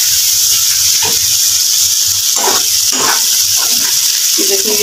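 Tomatoes and chillies fry in a pan with a loud, constant hissing sizzle close by, while a person talks underneath.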